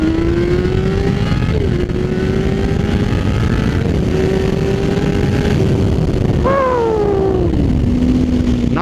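A BMW S1000RR motorcycle with slip-on exhaust baffles removed and aftermarket headers idles and revs loudly nearby, its exhaust tone climbing and falling in several sharp throttle blips over a continuous rough roar.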